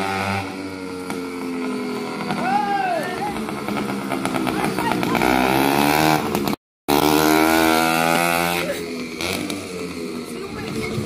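A motorcycle engine revs and drones steadily with rising and falling pitch, close and loud, while someone talks over it throughout.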